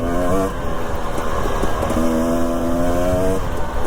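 A dirt bike engine drones continuously as it rides through deep snow drifts in Idaho, loud and close, its pitch rising and falling with the throttle.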